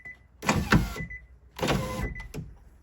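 A car power window with a lubrication fault runs in two short bursts, each a loud harsh motor grind lasting about half a second, separated by a brief pause, with no voices.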